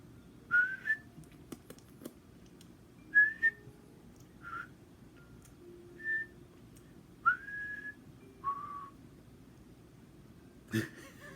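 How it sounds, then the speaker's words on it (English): Someone whistles a series of short, breathy notes with pauses between them, a little wavering and uneven, close to the listener over quiet room noise. "I can't whistle like I used to."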